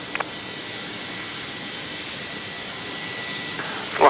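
An Air New Zealand jet rolling for takeoff, a steady distant broadband roar of engines that holds evenly throughout, with a brief click near the start and a louder bump at the very end.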